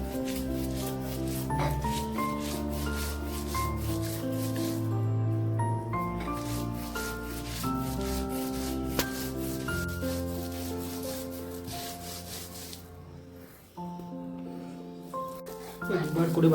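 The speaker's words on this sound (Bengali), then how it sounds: "শিলনোড়াতে খারকোল পাতা আর চিংড়ি মাছ বাটা বেটে নেওয়া হচ্ছে" Rhythmic scraping and rubbing of a stone grinder working kharkol leaves and shrimp into a paste on a stone slab, steady and close, under a sustained tonal background.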